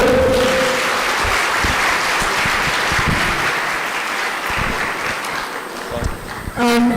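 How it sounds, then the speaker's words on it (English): Loud, sustained audience applause at a refugee forum in Waikato, steady clapping filling most of the stretch, with a few voices near the end as it dies down. "Can you give a round of applause for them?"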